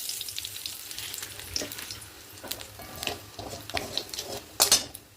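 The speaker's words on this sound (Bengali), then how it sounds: "এবার আমি এতে কালো জিরে ফোড়ন দিয়ে দেবো" Black cumin seeds hit hot oil in a kadai and crackle and sizzle close by, with a few sharper clatters and scrapes scattered through and no talk.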